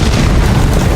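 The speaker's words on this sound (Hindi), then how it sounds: "वो काफी बड़ा धमाका था," A big explosion goes off in the video game Silksong, a loud, dense boom with a low rumble that holds steady for the full second, with no talk over it.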